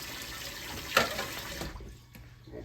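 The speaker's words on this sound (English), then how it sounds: "I'm gonna pour some water in here" Water pours into a pot holding ham base for old-school red beans with smoked ham shanks, a close steady splashing stream that swells briefly and then tapers to a thin trickle.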